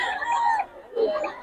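Chickens and roosters at a poultry seller's place in Bocaue, two loud clucking, crowing-like calls in close succession with a brief gap between, near and clear with no talk.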